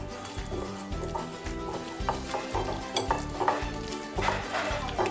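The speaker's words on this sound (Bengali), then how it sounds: "আদা রসুন পেস্ট দিয়ে এটাকে ভালো করে এবার মেখে নেবো" Raw chicken being mixed by hand with yogurt and ginger garlic paste, making steady, wet, squelching stirring sounds in a regular rhythm, close and continuous.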